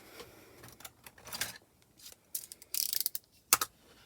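Paper cutting machine in use on a craft table, giving a series of short clicking, sliding mechanical sounds and sharp snaps spaced irregularly, close and fairly quiet.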